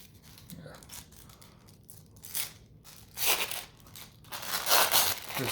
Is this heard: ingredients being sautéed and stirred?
no